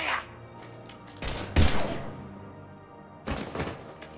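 A few heavy gunshots and thuds ring out in the Mass Effect 3 video game, a loud cluster in the middle and another burst near the end, separated by quieter, dialogue-filled ambience.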